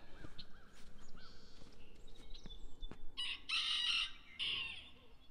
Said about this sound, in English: Chickens in the background.